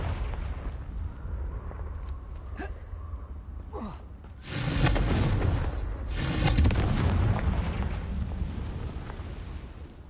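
Confringo blasting spell in Hogwarts Legacy, a booming fiery burst that swells into a sustained roaring rumble lasting several seconds, loud and alone without talk.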